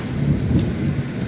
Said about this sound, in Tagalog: Malalakas na kulog at kidlat naman ang naranasan sa Samal, Bataan.